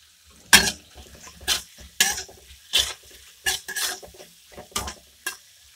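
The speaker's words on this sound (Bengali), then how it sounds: "এবারে পেঁয়াজ দেব, পেঁয়াজকে একটু ভেজে নেব।" Onions sautéing in a pan with salt and turmeric for poha, scraped by a spatula in about eight distinct, evenly spaced stirring strokes over a faint low sizzle, close and fairly loud.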